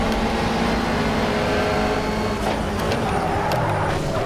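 Loud, continuous roar of racing car engines in the Project CARS video game, from a Renault Clio 4 Cup and rival cars, steady and droning with slight shifts in pitch, no voices.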